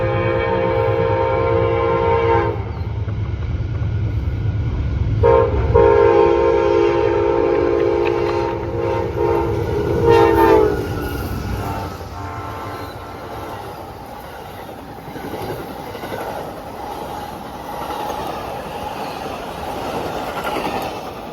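A passenger train rumbles past loudly, its horn blaring in several long blasts before the roar of the cars settles into a steady rolling clatter.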